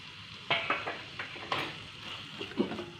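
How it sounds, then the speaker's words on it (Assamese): Fried potatoes tipped into a pan for an omelette curry, a quiet sizzle with a few brief stirring and scraping knocks of a spoon against the pan. "এতিয়া ভাজি থোৱা আলুখিনি দি দিছোঁ ইয়াত।"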